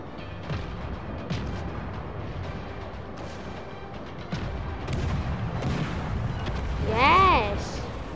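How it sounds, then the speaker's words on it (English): Naval gunfire from enemy warships in World of Warships: Legends, a continuous low rumble of distant booms and shell impacts running under excited talk throughout. "Oh, they're shooting at me."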